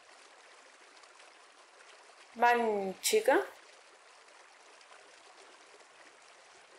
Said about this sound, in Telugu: వాటర్ ఫ్లో అయ్యే సౌండ్ మీకు వినిపిస్తుందా?